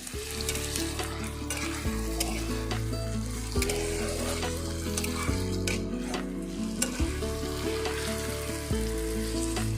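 Onions fry in a pan with sugar, ginger-garlic paste and tomato for a chicken curry. A steady sizzle runs under rhythmic scraping strokes of a spoon stirring every couple of seconds, close and clear with no talking.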